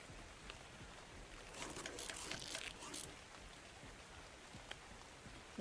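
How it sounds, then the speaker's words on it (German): Soft, steady rainfall patters in the survival game Ark: Survival of the Fittest, a faint continuous hiss with brief brighter splashes near the middle. "Jetzt könnte Regen bitte aufhören."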